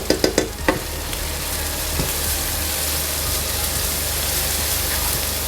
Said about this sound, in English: saute this until the onions are nice translucent and the raw smell of the ginger garlic is not gone away